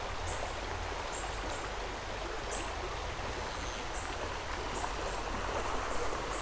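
Broad, steady rush of stream water flowing along a fly fishing spot, continuous and fairly close, with faint bird chirps scattered above it and no talking.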